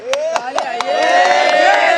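Members of an audience at a Delhi political talk clap in a fast, regular rhythm, about four or five claps a second. Loud voices shout and call out over the clapping, close and dense, for the whole two seconds.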